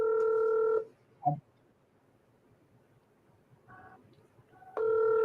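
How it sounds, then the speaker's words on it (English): Telephone keypad tones on a call-in show line: a steady tone at the start, a short blip, then a couple of brief dialing beeps and another steady tone returning at the end, heard alone without talk. "Tammy, answer your phone."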